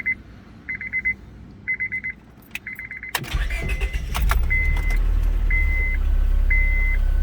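Inside a 2002 Honda Civic LX, a string of electronic chimes sounds before the ignition turns. The engine then cranks and catches at once, settling into a loud, steady idle.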